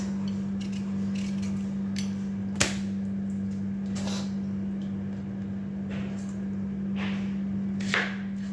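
A knife chops onion and ginger on a board for a Bangladeshi-style beef dish, giving a few sparse, sharp cuts over a steady background hum, with no talking.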